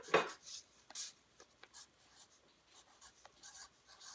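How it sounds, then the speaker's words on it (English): Pen or pencil writing on paper during a math lesson, a quiet series of short scratchy strokes, close and soft, with a sharper stroke at the start and lighter marks after, no talk over them. "So we have to write below it, you can write 5 groups"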